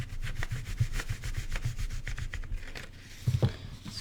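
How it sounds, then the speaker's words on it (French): A pencil eraser rubs back and forth on drawing paper while a cheetah is sketched, making quick rhythmic scrubbing strokes, close and fairly quiet, with a brief faster burst near the end. "je vais gommer un peu."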